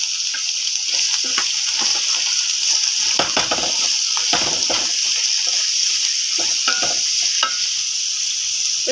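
A handful of garlic fries in hot oil in a pan for chicken curry, giving a loud, steady sizzling hiss close by, broken by scraping stir strokes, with no talking.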